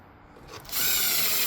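A power drill spins up and drives a screw into a wooden door jamb, a short rising whir that settles into a loud, steady grinding buzz.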